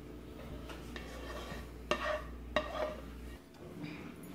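Cranberries and beets stirred in a pan for a home meal-kit dinner, a steady soft scraping with a light sizzle and two sharp utensil knocks, close and alone.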